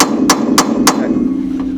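Three sharp metallic hammer strikes on a corroded battery cable during off-road truck repair in Baja, evenly spaced and loud, then a fainter fourth tap over a steady hum.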